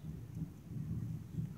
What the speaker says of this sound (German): Das grummelt da die ganze Zeit.